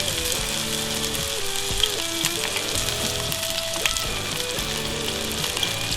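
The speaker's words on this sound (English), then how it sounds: "While your onions are frying" Battered onion rings deep fry in hot oil with a steady, close crackling sizzle and occasional pops, heard alone with faint kitchen clatter.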